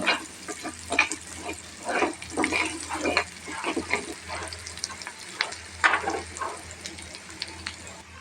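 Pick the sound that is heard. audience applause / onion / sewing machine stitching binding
onion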